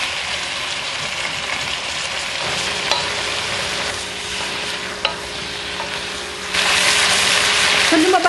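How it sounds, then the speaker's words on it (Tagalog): Beef pieces browning in hot cooking oil for beef rendang, a steady broadband sizzle with occasional stirring clicks and scrapes, swelling louder near the end. "kapag mainit na yung ating cooking oil, ilalagay na natin yung ating beef"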